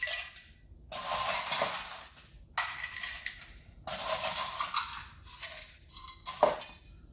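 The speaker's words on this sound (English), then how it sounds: "Fill my glass of ice." Ice cubes clatter and clink into a glass for a gin and sugar-free tonic cocktail, several separate bursts of bright rattling, fairly close, with no talk.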